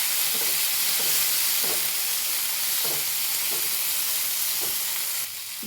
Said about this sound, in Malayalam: ഇനി ഇതിലേക്ക് തക്കാളിയാണ് ഇട്ട് കൊടുക്കുന്നത് ഞാൻ ആദ്യം ഇളക്കി കൊടുക്കാം കേട്ടോ